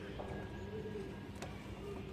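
Soft, low cooing of young homer pigeons murmurs faintly over a quiet background hum, a few throaty coos close together.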